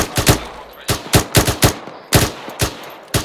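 Bursts of automatic rifle fire in the military game Arma III, close and loud, several rapid shots in clusters with short pauses between bursts.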